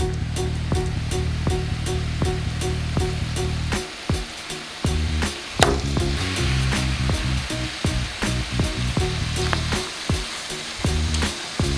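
Salmon fillet fries skin-side down in a pan over medium-low heat for a creamy garlic salmon, giving a steady, dense sizzle throughout with faint clinks now and then.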